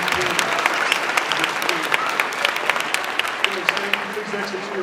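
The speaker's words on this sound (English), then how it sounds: "Let's give these students one more round of applause" Audience applause at a student recognition ceremony, a steady dense wash of many hands clapping with a few sharper individual claps, fairly loud and sustained, with some talk underneath.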